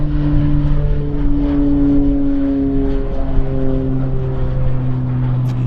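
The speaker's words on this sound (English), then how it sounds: "Might be a Medevac King Air too." A Medevac King Air turboprop at Vancouver Airport, a steady loud drone with sustained engine tones held throughout, close and continuous with no voices.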